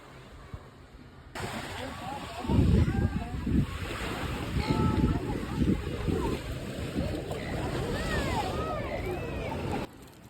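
Ocean surf rolls steadily onto a beach, with waves breaking and wind buffeting the microphone throughout, plus faint high calls above the wash.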